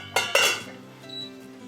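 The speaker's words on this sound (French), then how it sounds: "je laisse le couvercle toujours et je retire ma casserole du feu" Saucepan with its lid on being lifted off a stove burner while making a homemade anti-fly mixture, giving two quick metallic clanks and clinks followed by faint rattling.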